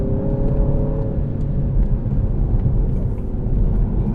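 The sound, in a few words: 2017 Mini Cooper S JCW tune engine while driving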